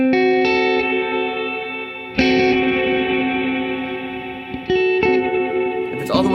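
Sustained guitar chords through a Chase Bliss MOOD pedal swell into a washy, diffuse reverb tail, each new strum blooming and slowly decaying, loud and close.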